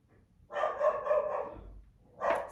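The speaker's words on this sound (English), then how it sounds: "Sorry about my dog." A dog barks in a quiet room, one sustained bark-like burst followed by a shorter second one a moment later, fairly close and alone.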